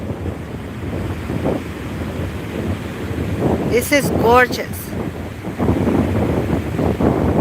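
Ocean waves wash onto the shore at the Channel Islands dunes in Oxnard, California, at sunset, a steady surf roar under gusty wind buffeting the microphone, with someone speaking briefly partway through.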